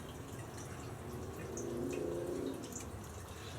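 Fluid trickles and drips from a drained hose on a Suzuki DR650 motorcycle, a faint, close, steady runoff that swells briefly in the middle before settling back.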